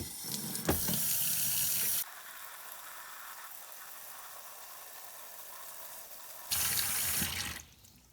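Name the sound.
water rinsing motorcycle engine oil pump parts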